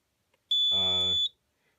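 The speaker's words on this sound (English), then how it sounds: "I press it and the buzzer goes off." A fire alarm panel buzzer sounds when its button is pressed, giving one steady, shrill electronic tone for under a second, close and clear, with a voice briefly beneath it.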